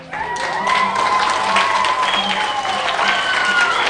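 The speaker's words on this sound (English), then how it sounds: "So please applaud her." An audience applauds a seventh-grade student called up to the front at a school ceremony, a steady wash of clapping with some cheering, loud and continuous throughout, while faint tonal sounds drift over the crowd.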